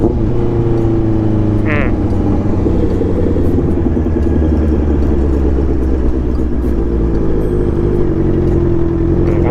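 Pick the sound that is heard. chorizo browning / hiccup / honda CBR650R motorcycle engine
honda CBR650R motorcycle engine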